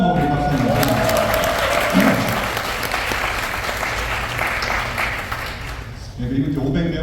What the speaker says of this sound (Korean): 150명의 들은 여러분을 위해 포함하고 박수합니다